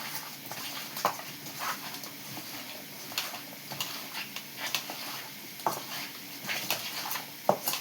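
A pot of chicken being stirred into masala, with scattered clinks and scrapes of a spoon against metal at an irregular rhythm, fairly quiet and close, with no talking.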